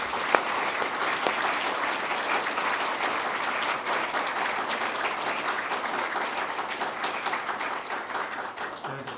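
A lecture audience applauds steadily for several seconds, a dense, even wash of many hands clapping close by with no talk over it.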